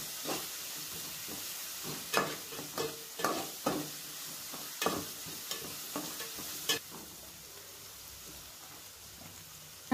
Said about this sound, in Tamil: அந்த மாதிரி ஒன்றும் பாதியமாக தட்டி இடித்து இதில் வந்து சேர்த்து நல்லா வதக்கி விட்டுக்கிறேன்